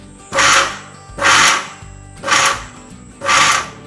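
A mixer grinder pulses damp wheat flour for puttu in four evenly spaced, loud whirring bursts with brief pauses between them.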